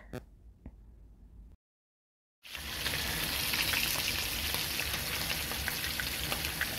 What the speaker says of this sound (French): Ensuite, je vais le faire frire.